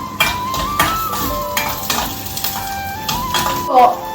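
Asafoetida dropped into a sizzling tempering in a pan, with hot oil crackling and a utensil stirring and scraping in short strokes, close and fairly loud.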